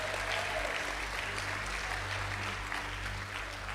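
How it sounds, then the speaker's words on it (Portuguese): A crowd claps steadily and continuously, a full, close applause filling the room with a low hum underneath. "Toma o seu assento aplaudindo o nome de Jesus"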